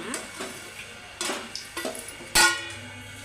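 Bitter gourd bajji going into hot oil, with scattered light sizzles and utensil clinks leading to a sharp metallic clatter near the end, all close and without talk.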